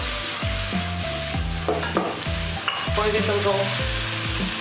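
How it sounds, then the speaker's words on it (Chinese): Pork slices and egg are stir-fried in a pan with soy sauce added, a continuous close sizzle with stirring, heard under a speaking voice and tonal background sound. "翻炒一下就可以出锅了。"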